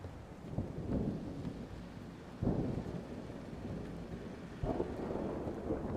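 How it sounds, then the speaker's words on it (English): Thunderstorm with heavy steady rain and low rolling thunder, three deep rumbling surges swelling up over the constant wash of rainfall, fairly distant and alone without voices. "You can listen to the storm."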